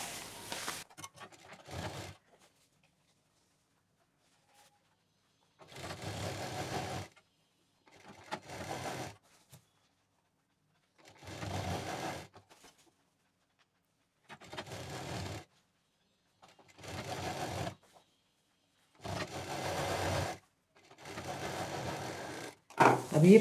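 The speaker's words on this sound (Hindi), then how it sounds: "अब इसको मिलाते हुए पूरा हम राउंड में सिल देंगे।" A sewing machine stitches all the way around a velvet fabric designer bag, running in about eight separate bursts with quiet pauses between them.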